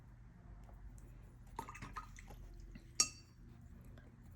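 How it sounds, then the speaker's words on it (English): A watercolor brush is rinsed in a jar of water, making faint, sparse watery dabs and one sharp glassy clink near the end against a quiet background. "Wash, rinse my brush,"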